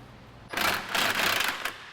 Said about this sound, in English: And use a 1/2-inch impact.